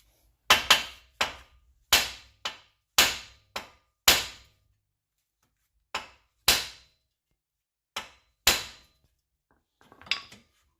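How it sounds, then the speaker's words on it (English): Sharp hammer blows ring on a metal part while installing bellows on a Subaru, a dozen or so strikes in uneven bursts, close and clear with quiet gaps between. "Gonna hit this with the hammer."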